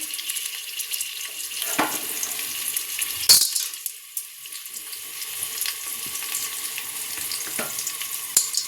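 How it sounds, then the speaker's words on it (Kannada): Spices and onion frying in oil, with coriander leaves, cinnamon, clove, ginger and gram added: a steady broadband sizzle with a few sharper clinks and stirring scrapes, close and fairly loud, no talking. "ಕಲರ್ ಬರೋಗಂಟ ಹುರ್ಕೊಬೇಕು ಚೆನ್ನಾಗಿ"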